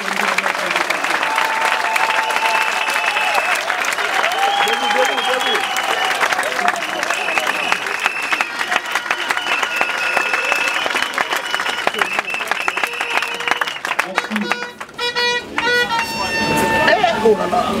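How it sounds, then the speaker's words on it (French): Party congress audience applauding and cheering in an ovation: dense, sustained clapping from a large crowd filling the whole stretch, with loud bursts and whistle-like tones near the end. "vous adresser une salve bien nourrie d'ovations et"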